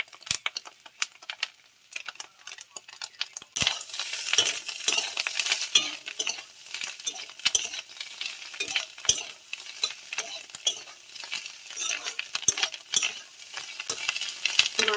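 Fish roe fries with onions, chili powder and salt in a pan, giving a soft, steady sizzle. A spatula stirs and scrapes close by in frequent irregular taps, with the first few seconds quieter before the sizzle swells.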